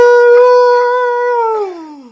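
A man lets out an imitation Sasquatch howl in the woods at night, a single loud, sustained tonal wail that holds steady and then slides downward as it fades.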